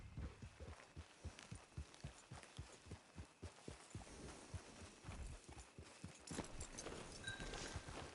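Horse hooves clip-clop in a steady rhythm while walking in Red Dead Redemption 2, close and fairly loud, with ambient game sound behind and no talk over them.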